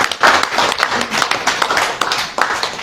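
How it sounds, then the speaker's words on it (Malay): An audience bursts into applause, a burst of dense clapping that starts loud and carries on with uneven peaks for a few seconds. "kita bagi satu tepukan."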